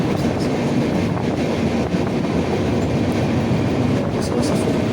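A moving passenger train on the Mumbai to Howrah route is heard from the door steps, with a loud steady rumble and wind rush, faint rhythmic wheel clatter, and occasional squeaks.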